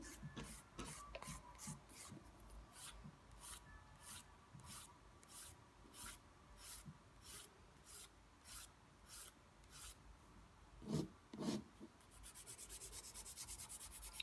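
A nail file rasps back and forth over an acrylic gel nail to shape it, giving a steady series of short, close scraping strokes with brief pauses between bursts.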